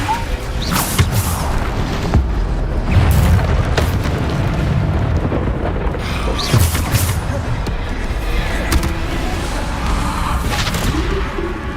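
Explosive Bombarda spell blasts in the Hogwarts Legacy video game, several loud booming bursts over a dense, continuous layer of game sound effects and combat noise.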